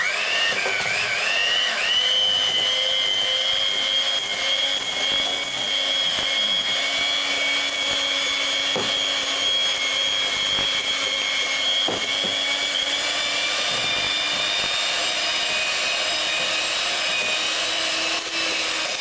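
An electric food mixer whisks runny Yorkshire pudding batter with a continuous high, steady motor whine and a faint rattle against the bowl, close and unbroken throughout with no talking.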